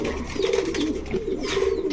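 Army breed pigeons, a running breeding pair, coo in repeated low throaty phrases close by, the calls rolling one into the next with a few soft chirps above them.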